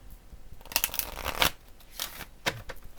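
Life purpose oracle cards being shuffled by hand in a few quick riffling bursts, close and fairly loud, with short pauses in between and no talking.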